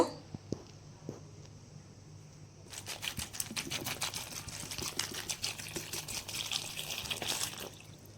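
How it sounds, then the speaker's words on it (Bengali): Cut pointed gourd pieces are swished and rinsed by hand in a bowl of water, a busy run of splashing and rattling that starts quietly and then carries on steadily. "একটা পাত্রে নিয়ে জল দিয়ে ভালো করে ধুয়ে নিব"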